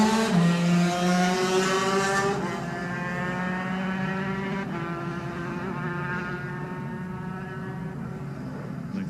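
Bruce Anstey's lightweight racing motorcycle at the Classic TT on the Isle of Man road course, its high engine note rising sharply as it approaches, then sweeping past and fading into a steady, slightly distant drone.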